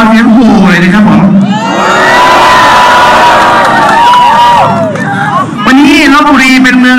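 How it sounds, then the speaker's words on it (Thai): A large outdoor crowd at a political rally in Lopburi lets out a loud, sustained roar of mass shouting and jeering that swells and fades, with someone speaking through amplification before and after. "ขอเสียงโห่เลยนะครับผม"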